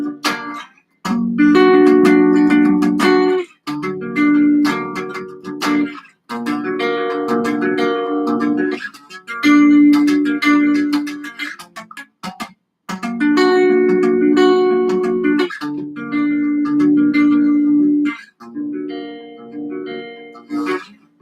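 Guitar chords played on the bottom four strings, strummed in separate bursts with short silent gaps between them and each chord ringing out clearly and fairly loudly.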